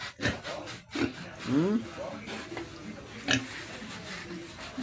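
Pigs grunt and snort in short, irregular bursts, close by, with rustling and scraping noises and a voice murmuring in the background.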